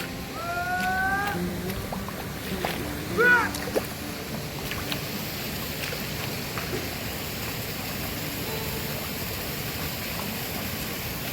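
Water runs steadily through a flooded paddy field during ploughing with bullocks, a continuous close wash and gurgle with brief splashy bursts near the start and a faint tonal call in the background.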